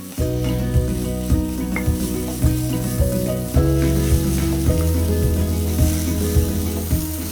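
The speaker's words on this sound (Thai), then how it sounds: "เนื้อหมูบดเขาก็จะมี ไขมันของเขาอยู่ด้วยนะครับเดี๋ยวไขมันก็จะออกมาผัดให้สุกดีครับ" Ground pork stir-frying in a pan as its fat renders, a loud, close sizzle broken by regular scraping strokes of the spatula, with no voices.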